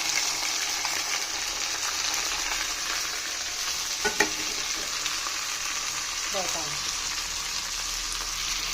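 Garlic paste, ginger paste and tomato frying in a pan for a Kerala chicken curry, a steady close sizzle throughout with a few faint stirring clicks and scrapes.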